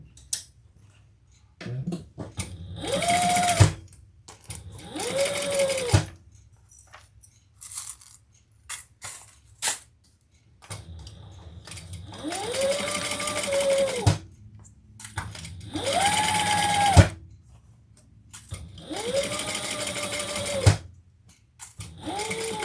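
A sewing machine sews a bag seam at the pattern's seam allowance in repeated short bursts, each with a rising then falling motor whine, separated by pauses with faint clicks and handling noise.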